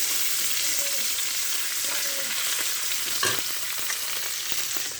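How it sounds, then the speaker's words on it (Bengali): Oil sizzles and crackles steadily in a wok, with an occasional clink of a utensil. "কড়াইতে তেল দিছি"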